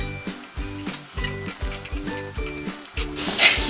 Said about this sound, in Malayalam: ഇതൊന്ന് ഇളക്കി നന്നായിട്ട് യോജിപ്പിച്ചിട്ട് 1 മിനിറ്റ് ഇതൊന്ന് നന്നായിട്ട് മൂപ്പിച്ചെടുക്കാം